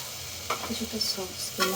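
Fried rice with vegetables and chicken being stirred slowly with a spatula in a hot pan, with soft sizzling and a few scraping strokes close by, without talk.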